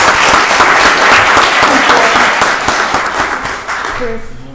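Applause from the audience at a Rockdale County Board of Commissioners voting session, a steady, loud round of clapping that holds for several seconds before thinning out at the end.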